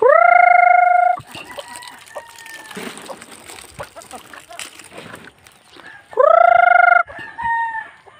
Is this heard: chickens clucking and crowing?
yes